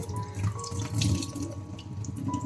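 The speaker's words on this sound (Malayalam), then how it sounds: "വീണ്ടും 3 വെള്ളത്തിൽ ഞാൻ കഴുകുന്നുണ്ട്" Rice being rinsed in a bowl under a running kitchen tap, a steady close splash and trickle of water with faint swishing of grains, continuous for a couple of seconds with no voices.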